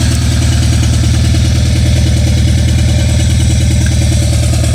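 Car engine idling with a misfire on cylinder 4 while one injector is unplugged, a loud, steady low rumble with a faint regular stumble, continuous throughout and with no voices.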